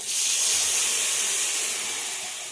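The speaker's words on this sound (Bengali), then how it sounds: "এবার এতে পরিমাণ মতো জল দিয়ে দেব।" Water poured into a hot pan holding fried mustard paste sets off a loud, steady hiss of steam that fades slightly toward the end.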